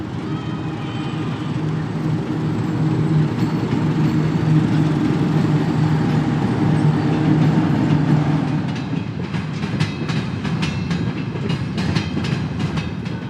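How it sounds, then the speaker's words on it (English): Train station ambience in Sainshand, Mongolia: a loud, steady rumble of rail traffic, with rhythmic clicking of wheels over track joints becoming prominent near the end. "I just arrived here coincidentally at the train station here in Samin Ud"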